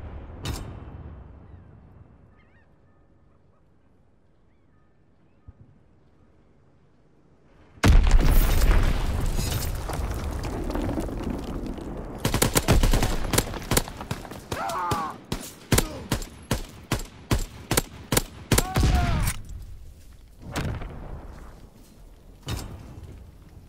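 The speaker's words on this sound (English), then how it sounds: "Fighter pilot inbound. Strafing the target." Rapid bursts of aircraft cannon fire and booming impacts from a fighter pilot's strafing run in an online shooter game, loud and dense after a quiet opening, with repeated sharp pops and explosions.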